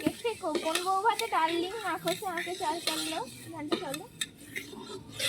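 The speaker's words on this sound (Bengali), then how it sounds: "এখন ডালটাকে কড়া একটু নেড়ে নেওয়া হচ্ছে, মানে ভাজা হালকা ভাজার মতন করে নেওয়া হচ্ছে।" Lentils are stirred and dry-roasted in a pan, with scattered scraping and light clinks of a utensil against metal heard under steady talking.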